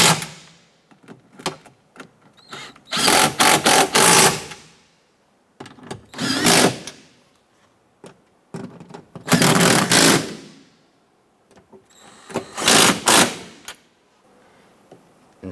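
A power tool snugs down nuts inside the door of a 2015-2020 Cadillac Escalade during a front window regulator replacement. It runs in four loud, close bursts of rapid whirring ratchet, with quiet clicks and handling noises between them.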